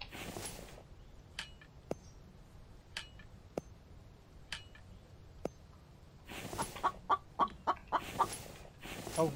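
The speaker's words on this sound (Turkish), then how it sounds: "Şu tavuğa bir ses daha verin ya." Chickens in the survival video game The Infected give scattered faint clucks and clicks over quiet background ambience, then a denser run of rapid clucking toward the end.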